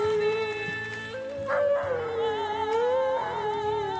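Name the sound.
dog howling along to a song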